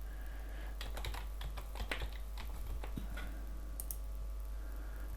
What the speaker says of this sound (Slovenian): Poleg tega vpišemo tudi naše geslo za Farmbridge.